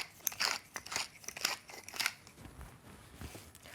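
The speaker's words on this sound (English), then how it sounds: "And then some freshly cracked pepper." A pepper mill grinds fresh black pepper over a salmon cake mixture of hot smoked salmon, a run of close, crisp crunching twists in quick bursts that trail off into quieter rustling.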